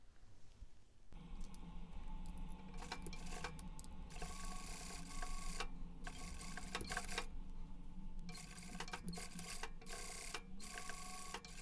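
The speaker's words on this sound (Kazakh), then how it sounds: "Бұл жолы бірден енді оверлокқа салып отырыңыздар, қыздар." An overlock serger stitches knit fabric for a turtleneck in quick bursts, a fast mechanical whirring and ticking that starts and stops several times, close and fairly faint.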